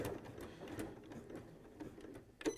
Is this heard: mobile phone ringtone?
no